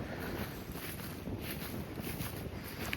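Steady wind gusting across the microphone at a lakeside campsite beside a dam, a continuous broadband rush with low rumble and no talk.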